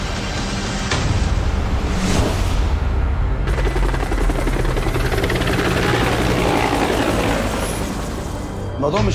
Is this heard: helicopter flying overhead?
yes